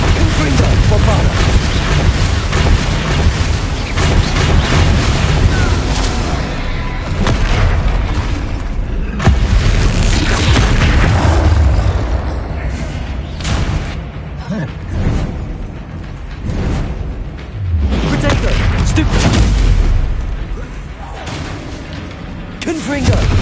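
Continuous barrage of Confringo and Bombarda blasting spells in a wizard game, loud booming explosions piling on top of each other with almost no pause, while voices shout over the din.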